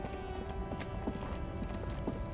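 Horse hooves clip-clop in a steady walking rhythm in the video game Disco Elysium, set outside in the game's town of Revachol, moderately near under a low ambient hum and music.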